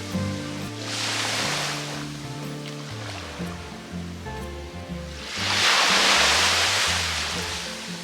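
Surf rolls onto a beach on Koh Samui under an overcast sky, a steady wash of breaking waves that swells louder toward the end, with no voices.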